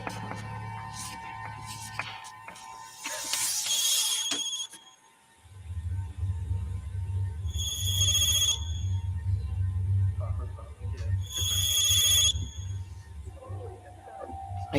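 A mobile phone rings in a movie scene, sounding in about three separate bursts of bright electronic tones over a steady low hum and some background sound.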